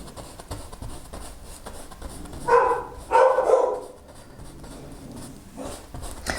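A dog barks twice in quick succession, fairly close and loud, against a quiet room background.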